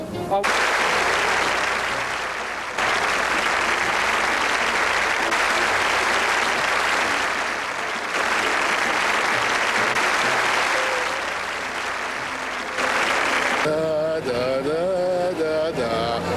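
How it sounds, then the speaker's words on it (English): An audience bursts into loud, dense applause that carries steadily for about thirteen seconds, dips briefly twice, then fades as voices take over at the end. "I can applaud when I hear something I like."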